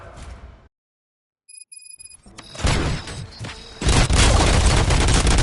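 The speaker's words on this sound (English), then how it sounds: "Gunshots? What's going on?" Loud bursts of gunfire and booming impacts in a RoboCop video game build up after a short silence, dense and chaotic toward the end, with electronic tones in between.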